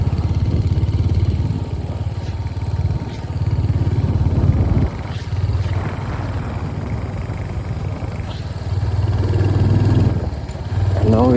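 A Royal Enfield Hunter 350 motorcycle rides through Nathang Valley in the Sikkim Himalayas, its engine a steady low thrum that rises and falls with throttle, loud and close, while wind buffets throughout.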